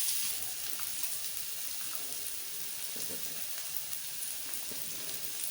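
Vegetable fried rice, home style, cooks over a high flame with a faint, continuous hissing sizzle, even and unbroken throughout, somewhat like light rain on a surface.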